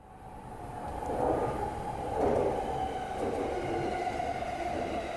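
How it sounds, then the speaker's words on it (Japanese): A Yamanote Line outer loop train runs in Tokyo, a steady rolling rumble with swelling surges of wheel and motor noise, heard from inside the car at moderate level without any talk. "この電車は山手線外回り品川渋谷方面行きです"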